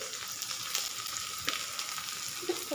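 Chopped onion and spices, including dried red chillies, fry in hot oil for a Bengali home-style dish, giving a steady close sizzle and crackle with a few faint stirring scrapes and no talk.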